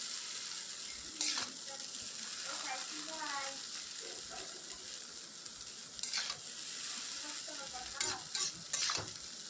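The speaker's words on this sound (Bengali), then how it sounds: "চাউমিনগুলো আমি আর একটু ভালো করে নাড়বো, মানে মিক্স করে নেবো" Chowmein with beans being stirred and tossed in a pan, with repeated scraping bursts over a steady background sizzle, close and moderately loud.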